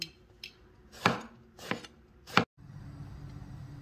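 A knife chops ingredients on a board for a Khmer braised fermented dish, making three or four separate sharp strikes at irregular intervals, close and clear with no talk.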